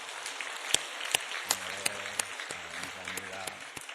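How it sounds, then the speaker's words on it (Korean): An audience in a church service gives a round of encouraging applause, a dense patter of clapping with a few sharper claps standing out over a low hum. "한 번 더 격려 박수 하겠습니다."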